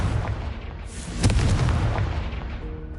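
A Confringo fire spell from the game Hogwarts Legacy bursts with a deep, rumbling boom over steady low game ambience, the blast swelling midway and fading slowly.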